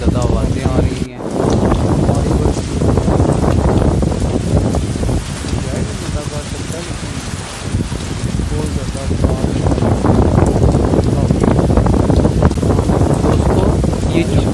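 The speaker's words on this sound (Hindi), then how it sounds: "कितनी तेज़ बारिश हो रही है और कितनी तेज़ हवाएं चल रही हैं।" Strong wind buffets the microphone at the docks during a heavy rainstorm, a loud, continuous roar with gusty swells and a voice at times underneath.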